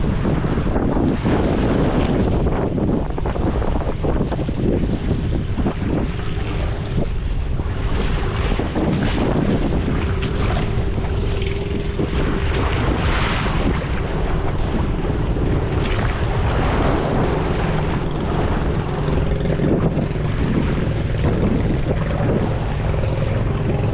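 Heavy wind buffets the microphone on a service boat in big ocean waves, a continuous loud roar of wind and surging water with an engine drone underneath.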